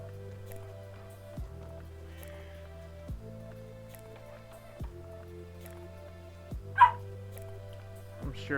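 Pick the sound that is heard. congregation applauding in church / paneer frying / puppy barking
puppy barking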